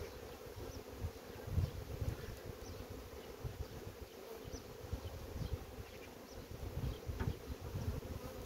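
Honeybees buzz densely and continuously at a hive frame, a close, thick drone of many wings with no voices, steady throughout.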